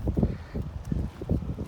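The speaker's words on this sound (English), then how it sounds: "It is windy today." Gusty wind buffets the microphone outdoors beside the Platte River during a litter cleanup, a steady low rumble with repeated stronger gusts and no voices.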